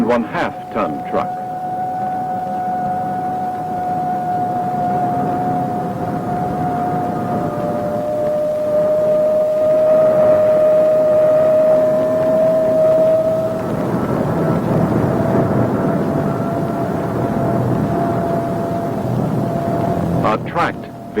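An AN/PPS-5 ground surveillance radar following a 2.5-ton truck gives a steady, humming audio tone over a bed of static, with faint clicks at the start and end.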